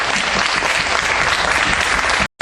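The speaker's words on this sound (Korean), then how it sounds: "토론에 참여한 모든 분들에게 큰 박수 부탁드립니다." An audience at a debate competition claps loudly and densely for the whole stretch after the debate ends, and the sound cuts off abruptly at the close.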